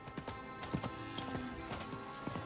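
Horse hooves clip-clopping in steady rhythm while riding a mount in the video game Diablo IV, near and moderately loud over soft game background music.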